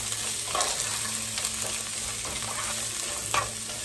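Beef lo mein with ground beef stir-frying over medium-high heat, steady close sizzle with soft scraping tosses of the pan at intervals, no voices.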